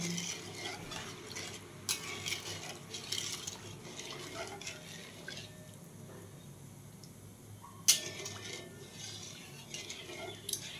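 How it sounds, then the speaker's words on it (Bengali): A spatula stirs sugar into water in a pot, giving soft repeated scraping and swishing strokes close by, with scattered clinks and one sharp knock near the end; no one speaks. "এভাবে চাটু দিয়ে নাড়িয়ে নাড়িয়ে আমি জলের মধ্যে চিনিগুলো খুব ভালোভাবে মিশিয়ে নিলাম"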